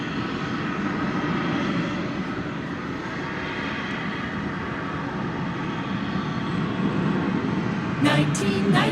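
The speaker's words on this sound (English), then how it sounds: "And that spinning propeller plane is Martin Air Flight 680. It's going to Wichita Falls. It's a Cessna 208B Super Cargo Master." A Cessna 208B Super Cargo Master propeller plane at DFW Airport gives a steady, loud broadband engine and propeller drone that holds throughout, with a brief clatter of higher sounds near the end.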